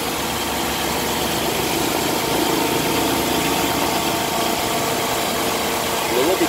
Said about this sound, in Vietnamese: Máy nổ im ru nha nè, nó đang nổ đó, đang nổ im ru rồi